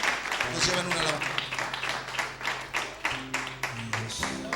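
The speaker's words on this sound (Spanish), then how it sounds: "Denle un aplauso al Señor de alabanza." Church congregation applauding during worship, broad steady clapping with rhythmic pulses and a sustained musical tone underneath, moderately loud throughout.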